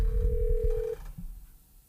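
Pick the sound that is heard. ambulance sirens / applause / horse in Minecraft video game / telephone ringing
telephone ringing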